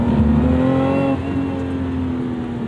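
Car engine revving hard during a heel-toe double-clutch downshift, a loud close-up whine whose pitch rises and then falls abruptly before settling into a steadier drone.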